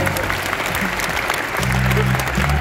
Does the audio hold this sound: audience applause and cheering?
yes